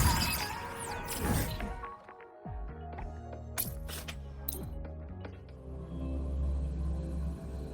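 A train pulling out of a station in the video game Wuthering Waves, a deep rumbling low drone with rhythmic clanks and thuds as it gets moving, and metallic crashes near the start.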